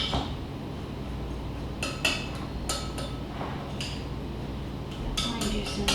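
Avocado salsa with lime juice being stirred in a bowl, light scattered clinks and scrapes of a utensil against the bowl over a steady background hum.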